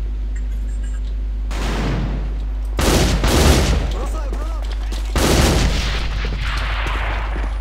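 Rapid bursts of video-game gunfire aimed at a sniper in mid, loud repeated volleys in several clusters separated by short pauses, with a steady low hum underneath.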